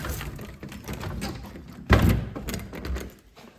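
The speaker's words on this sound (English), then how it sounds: "Door locked again." Lakeside house door pulled closed and locked, giving one solid thunk partway through amid faint background noise.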